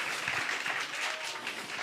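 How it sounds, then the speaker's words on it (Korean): Congregation members at a Sunday evening church service clap together, a dense, steady round of applause with no speech over it. "박수 쳐주세요."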